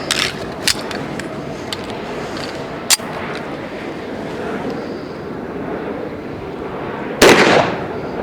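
Three sharp gunshots from a 10mm Auto pistol firing HSM hardcast 180-grain loads over AA#9 powder ring out at an outdoor range, two quick ones early and a heavier, louder crack near the end, over steady background hiss.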